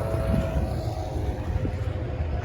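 A twin-engine motorboat runs past on the River Stour during a summer fishing competition, a steady low drone heard from some distance with faint wind.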